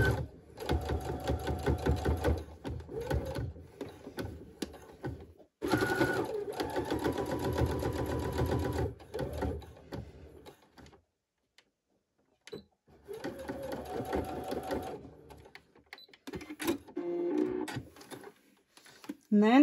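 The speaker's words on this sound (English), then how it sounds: "I'm just going to sew along either edge of that binding piece." A Baby Lock Brilliant sewing machine straight-stitches along the edges of a binding strip for kids' underwear, running in long close whirring bursts with pauses between, while a person speaks over it.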